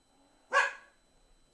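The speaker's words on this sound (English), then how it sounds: "That was my dog." A single sharp dog bark indoors, close and fairly loud, cutting through near silence and followed by a faint trailing sound.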